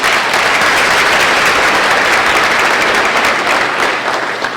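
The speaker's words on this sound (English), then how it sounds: "Let's give them a round of applause." Sustained audience applause fills a National Honor Society induction ceremony, dense and steady clapping from a large crowd with no voices over it.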